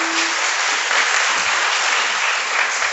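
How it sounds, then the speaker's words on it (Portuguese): A church congregation applauds in sustained, dense clapping that holds steady and loud for the whole stretch, with no voices rising above it. "Dá uma salva de palmas para Jesus."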